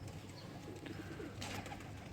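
Pigeons softly cooing inside a pigeon loft, faint low coos repeating under a quiet background with a few brief chirps and rustles, no talking.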